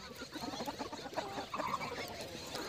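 Desi chickens, including an Aseel hen with her chicks, cluck and chirp on a poultry farm, a soft, scattered chorus of faint bird calls close by.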